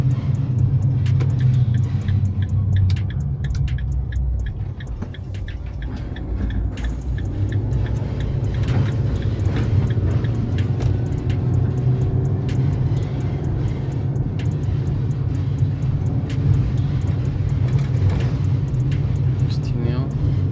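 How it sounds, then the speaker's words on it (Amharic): A car drives along a road, its low, continuous engine and road rumble steady throughout while a voice talks over it. "ይሄ ነው መኪና ጋይስ።"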